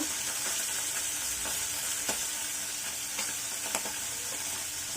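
Tengra fish fry in hot oil in a pan, a steady close hiss of sizzling with a few faint clicks of a utensil, no voices.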